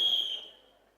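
An audience member at a live talk lets out a single high, steady whistle that fades away over about a second, clear and alone.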